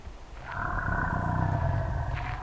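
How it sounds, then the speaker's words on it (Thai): A bear-like roar sounds outdoors at a campsite, a single drawn-out, growling call that swells in and holds for nearly two seconds before fading, fairly close and loud. "เสียงหมี"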